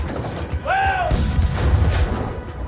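Heavy cannons firing aboard a wooden sailing warship armed with up to 64 guns; a brief rising whine gives way to a deep, sustained booming rumble that fills the rest of the moment.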